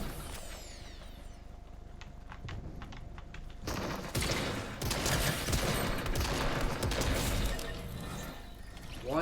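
Ranger shotgun blasts in Fortnite zero build, Chapter 3 Season 2: a run of loud, sharp reports with gunfire and impacts crowding the second half, scattered and close, no talk.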